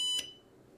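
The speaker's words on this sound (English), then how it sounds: "fire alarm" A home-built fire sensor on a custom PCB sets off a single short, loud electronic alarm beep with a piercing tone, which quickly fades into quiet room background.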